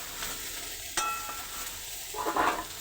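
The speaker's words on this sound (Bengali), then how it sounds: "অল্প করে তেল দিয়ে এঁচোর আর আলু একসাথে ভেজে নিলাম" Boiled young jackfruit and potato fry together in a little oil in a wok, giving a close sizzle with a clattering stir of the spatula about a second in and a louder burst of frying near the end.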